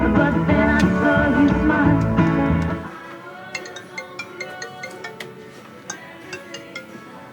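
A mobile phone ringtone plays: a dense, loud musical passage gives way to a lighter tinkling melody of evenly spaced chime-like notes that keeps repeating at a steady rhythm without any talking.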